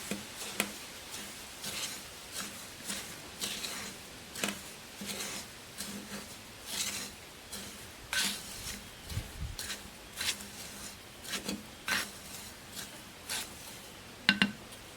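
Perlite being stirred into potting soil, a steady series of soft gritty scrapes and light crunchy taps, close and fairly quiet, with no talking.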